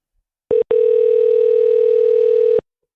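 A steady telephone dial tone sounds on a call about negotiating a car purchase: a short burst, a brief break, then a continuous loud tone lasting about two seconds before cutting off cleanly.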